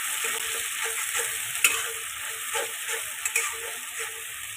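Onions, garlic and spices frying in a wok, a bright continuous sizzle with regular scraping stir strokes and a couple of sharper clinks, close up with no speech.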